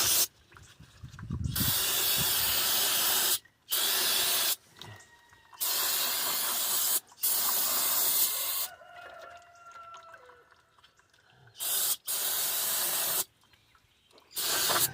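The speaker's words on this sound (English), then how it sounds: "I just used my brake cleaner to get all that stuff off of there" Brake cleaner sprays onto car brake parts in a series of loud, close hissing bursts separated by short pauses, with faint background noise between them.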